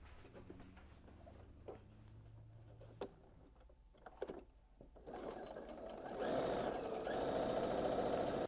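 A sewing machine stitches the sides of a fabric gift bag, starting after a few quiet clicks and handling sounds and then running in a steady, close, rapid whir.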